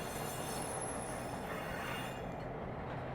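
A train passing beside a veterans park in Clifton, Arizona, its wagons in military-style digital camouflage with armed service logos, gives a steady, even rumble of rolling cars that holds at moderate distance and thins slightly toward the end.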